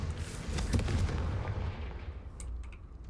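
A fiery Confringo blast spell in Hogwarts Legacy booms out as a loud burst with a rumbling tail that fades into game ambience.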